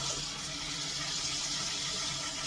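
Lukewarm water runs steadily from a tap with a soft, continuous rushing and splashing as green beans are washed, close by and without talking.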